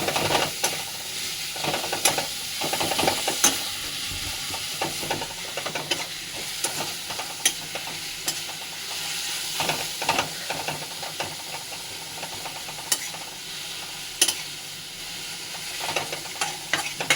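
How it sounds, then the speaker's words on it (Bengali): Onions fry in a pan for a prawn kosha curry while a spatula stirs them, producing a continuous sizzle broken by repeated scraping strokes and soft knocks, close and steady with no talking. "এবারে পেঁয়াজটা ভালো করে একটু নাড়িয়ে নেবো।"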